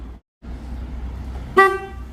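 A single short car horn toot sounds as a 2017 Renault Megane 4 locks, near the end, after a brief moment of silence and low engine-like background.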